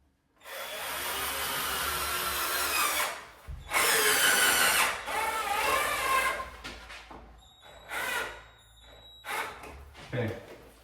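A Harbor Freight Warrior cordless drill drives screws into wood in close, loud whirring bursts that start and stop, followed by shorter runs and handling clicks.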